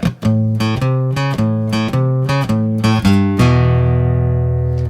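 An electric guitar plays a choppy walking blues rhythm in short detuned-sounding stabs, then ends on a lick and a long ringing final chord, alone and up close.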